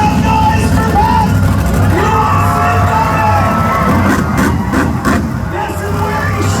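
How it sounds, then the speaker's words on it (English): A crowd at a monster truck show yells and whoops over constant engine rumble from the arena, with an announcer talking loudly throughout. "You gotta make some noise for Pat"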